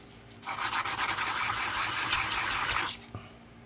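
The edge of a 1968 Canadian 50-cent silver coin ring is rubbed and sanded in a continuous, close, abrasive scratching burst lasting about two and a half seconds, then stops.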